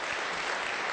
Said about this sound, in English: let's give him another round of applause as he takes off here